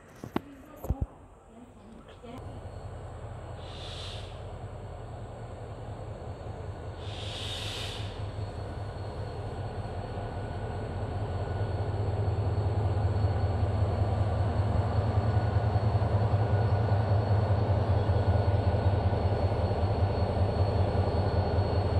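A Korail Mugunghwa passenger train hauled by diesel locomotive 7353 rumbles steadily, growing louder as it arrives at Hallimjeong station, with a low engine drone and two brief hissing bursts early on.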